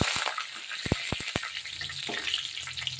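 Curry leaves crackle and sizzle in hot oil for a beef curry, a steady broadband frying hiss with several sharp pops near the start, heard close and with no talk.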